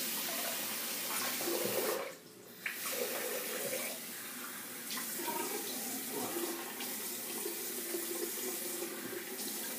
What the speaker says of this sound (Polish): Spłuczę twarz zimną wodą i już wam powiem.